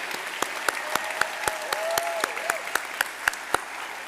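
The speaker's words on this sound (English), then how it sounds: "One last round of applause for everybody here tonight" An awards-night audience applauds nominees and finalists in a steady, even wave of clapping, with sharp individual claps standing out and a faint whistle-like tone running beneath.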